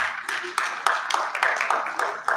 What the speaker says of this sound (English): It looks as if our clapping is going down.